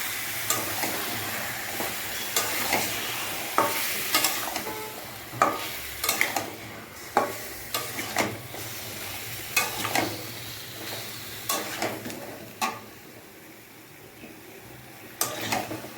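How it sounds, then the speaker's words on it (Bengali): Meat is stirred and sautéed in a pan with repeated scraping and clattering strokes at an uneven pace over a steady sizzle, the strokes close and fairly loud. "ভালো করে নাড়াচাড়া করবো"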